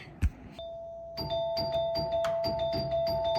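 A doorbell chimes repeatedly, its tones ringing over and over in quick succession after a brief knock-like thump, fairly close and steady.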